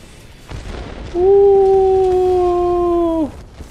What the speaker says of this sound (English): let's drop our giant bomb on that compound